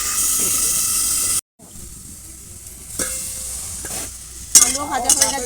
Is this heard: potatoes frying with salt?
yes